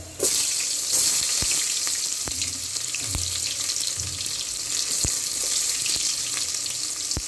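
Onions frying in hot oil for a village-style fish sambar, a steady loud hiss and crackle with a few sharp pops and scraping knocks scattered through.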